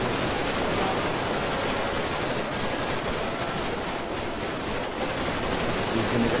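A gun salute volley fired into the sky during a GTA NoPixel roleplay farewell to Queen Elizabeth, a dense, loud, continuous rattle of overlapping gunshots with no pause.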